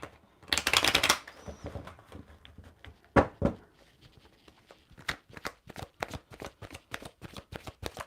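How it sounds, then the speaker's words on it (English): Tarot cards being shuffled by hand: a dense burst of riffling, then a run of quick crisp card snaps and taps in an uneven rhythm, close and fairly quiet. "I'm just going to finish shuffling."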